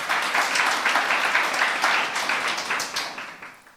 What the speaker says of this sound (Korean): 박수며 하나님께 올려주시라